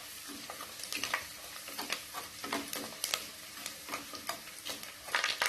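Onion vadagam crackling and spluttering in hot oil with mustard seeds for a Tamil tamarind kulambu, a busy close sizzle punctuated by sharp pops and light stirring scrapes.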